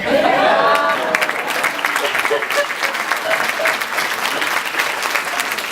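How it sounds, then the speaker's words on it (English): Steady, full round of applause from an audience at a 2016 mental health summit in Sedona, Arizona, dense clapping throughout with a few faint voices and chuckles mixed in. "let's give another round of applause to thank all of them for sharing their story"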